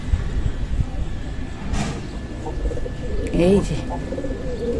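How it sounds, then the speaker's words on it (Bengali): Pigeons coo on nearby house rooftops in the morning, soft rolling coos under outdoor background noise, with a brief spoken remark near the end. "ওই দেখুন বাড়ির ছাদের উপরে কত পায়রা"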